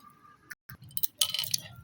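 A cooking pot gets its lid set on while khichuri simmers with a little water in a small kitchen, giving a few sharp metallic clinks and a brief rattle close by.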